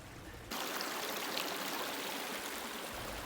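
Clear spring water runs through a stream confluence, a steady close babble and trickle that starts abruptly and continues evenly throughout.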